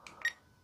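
A ToolkitRC M7 lithium battery cell-balancing charger gives two short electronic buzzer beeps in quick succession, faint and close by in a quiet room.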